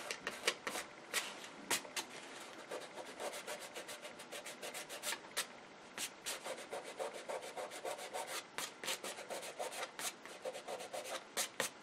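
Dried masking fluid being rubbed off a painting by hand, a fast run of soft, scratchy rubbing strokes repeating steadily throughout, close and fairly quiet.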